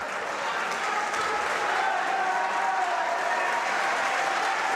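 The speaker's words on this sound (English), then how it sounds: "you can hear the entire audience clapping, cheering for them" A full arena crowd claps and cheers after a hard-fought match in the finals of a youth Olympic sports festival, a dense, sustained roar of applause with a faint voice over it.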